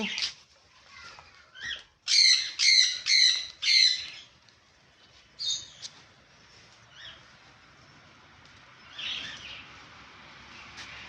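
Lovebirds and conures in a pet bird shop give a burst of loud, close, rapid squawks, then scattered shorter calls and chirps at lower volume.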